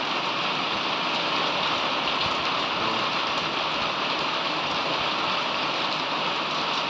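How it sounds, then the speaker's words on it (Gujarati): Heavy rain pours down steadily at a village farm after a full night of downpour, a dense, unbroken hiss of drops drumming on surfaces, loud and close throughout with no voices. "અને હજી વરસાદ ચાલુ જ છે અત્યારે."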